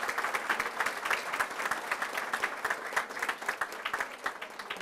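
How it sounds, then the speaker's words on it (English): A crowd applauds graduating ESL students at a Naples campus ceremony, with dense, continuous clapping from many hands, moderately loud and sustained throughout. "So please give them an extra round of applause for making it to graduation today."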